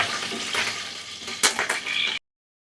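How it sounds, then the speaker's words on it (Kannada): Chana dal and urad dal fry in hot oil with a bright, steady sizzle, broken by a couple of sharp clinks of a spoon against the pan, ending abruptly. "ಇಷ್ಟು ಪದಾರ್ಥನ ಸೇರಿಸ್ಕೊಂಡು ಒಂದು ಅರ್ಧದಿಂದ 1 ನಿಮಿಷ ಎಣ್ಣೆ ಜೊತೆನಲ್ಲಿ ಚೆನ್ನಾಗಿ ಫ್ರೈ ಮಾಡ್ಕೊಳ್ಳೋಣ."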